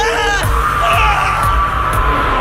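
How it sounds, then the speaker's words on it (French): Terrible screams and yelling burst out in a dark horror-story scene set in a server room, loud and close, with dull bangs beneath the cries. "des cris effroyables retentirent depuis la salle des serveurs"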